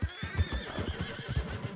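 A nervous horse neighs in a Western setting, a long wavering whinny over snorting breaths and a few thudding hoof clops, close and fairly loud, with no speech.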